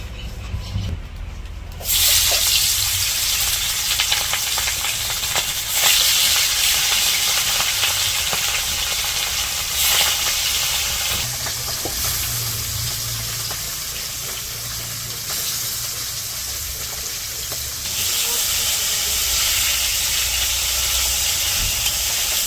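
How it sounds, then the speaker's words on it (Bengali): Hilsa fish frying in mustard oil gives a loud, steady sizzle and hiss that carries on for the whole stretch, close up, with no talk over it. "এখন প্রথমে মাছগুলো ভেজে নেই তারপরে বেগুন ভাজি করে পরে তেল দিয়ে দিই সরিষার তেল"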